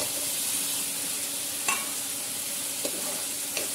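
Potatoes fry in hot oil with chili paste for bhungra bateta, giving a steady close sizzle, with a few faint scrapes and taps as a spoon stirs them.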